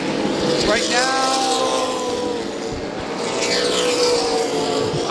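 Super late model race cars roar around New Smyrna Speedway, a loud, continuous engine drone with pitch sweeping up and down as cars pass close by, under steady crowd and commentary noise.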